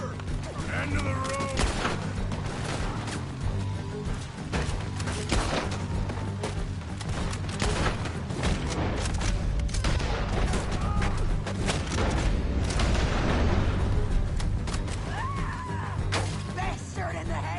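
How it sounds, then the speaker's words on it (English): Repeated gunfire in Red Dead Redemption 2, a fast volley of sharp cracks and bursts over a dense battle din of echoes and impacts, with voices shouting throughout. "Just shoot her."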